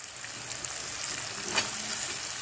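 Thinly sliced onions and curry leaves fry in hot oil in a pan for vankaya pachhipulusu, a soft, continuous sizzle with a brief crackle flaring partway through, close and without talk.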